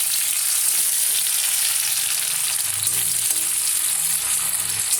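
Small onions fry in hot oil with a loud, continuous close-up sizzle and crackle that holds steady from start to finish, with no voices.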